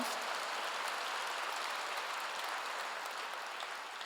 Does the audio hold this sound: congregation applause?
yes